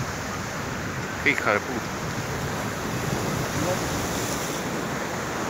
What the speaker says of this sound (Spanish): Cuando venga la ola